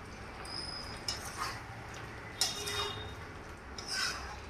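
A spoon stirring prawn curry with brinjal and potato in a pot, scraping and clinking in scattered soft scrapes over a steady hiss, with a few brighter metallic taps.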